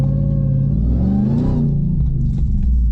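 A truck engine revs loudly and close up, a deep rumbling roar that climbs in pitch to a peak and then eases back down into a steady throaty idle, with no voices over it.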